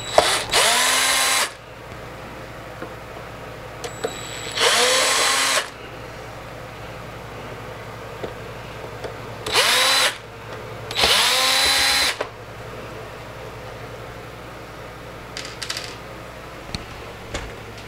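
Power drill backing screws out of the plastic plate on a Technics 1200 turntable, four loud whirring bursts separated by pauses, with small clicks and clinks of loose screws in between.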